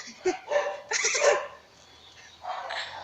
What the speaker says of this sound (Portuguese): Já que a mulher passou com 300 cachorros que tava latindo, eu gravei eles pra você